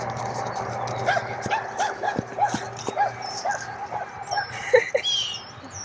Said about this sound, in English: We have a new puppy